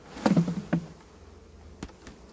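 Honeybees are shaken off a hive frame in a few sharp knocks and thuds, followed by a soft background hum and a couple of faint taps.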